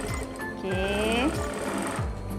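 A sewing machine runs a coarse basting seam along a tiered robe, with quick rhythmic bursts of stitching close by that stop and start several times.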